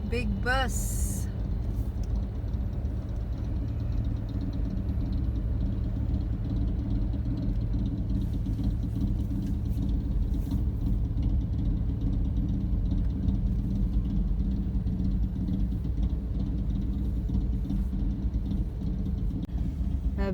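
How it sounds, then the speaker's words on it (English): Big bus drives past on the Las Vegas Strip at night, a heavy low engine rumble that holds steady for about twenty seconds, with people chatting inside a car over it. "Big bus."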